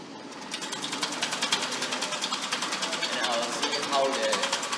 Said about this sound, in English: I will vary the motor speed